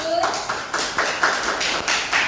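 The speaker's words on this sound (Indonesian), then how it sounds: "Kelompok 2 bisa kasih tepuk tangan dulu." Classroom applause for a student group, a few loose, uneven bursts of clapping from a small group, fairly close, with a voice speaking briefly at the start.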